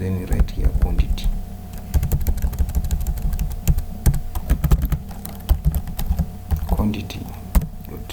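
Code being typed for an HTML product form on a computer keyboard: rapid, close irregular key clicks in bursts with brief pauses, under a quiet voice speaking.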